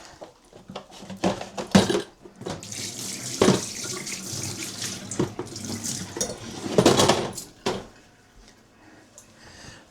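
A kitchen tap runs in a sink while hands are washed after handling raw beef for a stew, with splashing water in bursts and occasional clatter of dishes, close and fairly loud.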